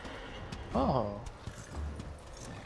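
Horse hooves clop in Darksiders Warmastered, with a brief whinny-like call in the middle while someone talks over the game.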